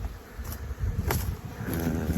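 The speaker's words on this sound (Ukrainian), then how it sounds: "Подивіться, молода бджола на обльоті." Young honeybees on an orientation flight hum in a dense, continuous buzz close by, with individual insects droning past over a steady swarm drone.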